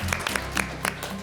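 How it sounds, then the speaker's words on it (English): Studio audience applause on a celebrity charity auction show, heard as a brief patter of claps with a few sharper accents over a low hum. "Another round of applause to Terry"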